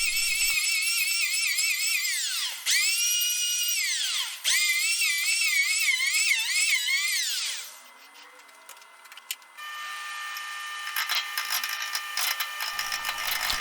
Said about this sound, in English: this is my first time using a roughing gouge